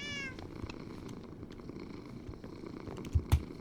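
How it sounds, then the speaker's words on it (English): A cat in Minecraft purrs steadily and softly at close range, a low continuous rumble with a couple of brief louder bumps near the end. "There's a cat in here just purring away somewhere."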